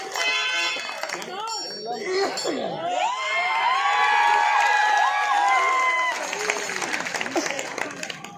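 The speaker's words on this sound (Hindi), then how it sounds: "जोरदार तालियों से सम्मान कर देंगे" Crowd at a live Birha folk performance in Varanasi claps and cheers, with children shouting and voices rising over the applause in a lively, noisy mix.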